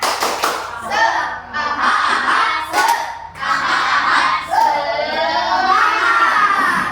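A class of standing elementary students performs a rhythmic clapping chant, sharp clustered claps in patterned bursts mixed with children's voices chanting together, close and loud, with brief pauses between phrases.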